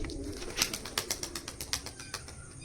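Pigeons being released flap their wings in a run of sharp, rapid bursts, with a soft low coo underneath, close by and fairly quiet.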